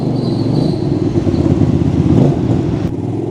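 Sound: new motorcycle riding off and accelerating

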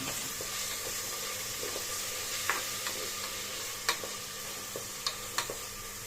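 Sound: tomatoes frying in oil with ginger garlic paste

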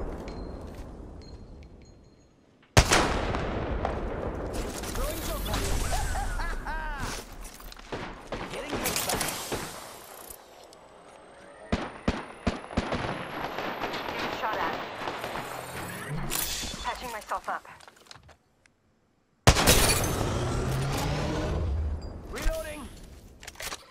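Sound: gunfire in Apex Legends video game

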